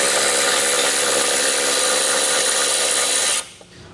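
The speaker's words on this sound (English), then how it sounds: "Now take a 15mm socket and we're going to remove the impact beam first." A power tool fitted with a 15mm socket driving out bumper impact beam bolts on a 2023 Tesla, a loud, steady high whir running close for over three seconds, then cutting off abruptly.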